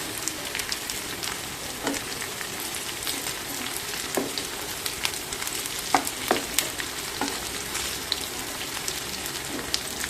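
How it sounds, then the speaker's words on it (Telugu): Raw plantain pieces fry in plenty of oil with a steady bright sizzle, broken by intermittent scraping clinks and shuffles of stirring throughout. "మనం కట్ చేసిన అరటికాయ పీసులు ఇవి కూడా బాగా మగ్గించుకుందాం."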